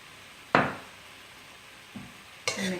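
Veg chow mein tossed with sauces in a pan: a few separate, close scraping clatters of a utensil against the pan, with quiet gaps between strokes and no talking.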